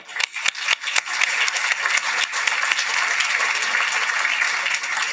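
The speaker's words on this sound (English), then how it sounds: "So a special round of applause for our founders." A New York museum audience applauds the museum's founders. A few scattered claps quickly swell into full, sustained applause that carries on loud and steady to the end.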